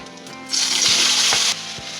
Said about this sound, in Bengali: আমাদের আলু ভাজা হয়ে গেছে